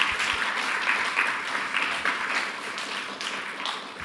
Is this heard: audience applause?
yes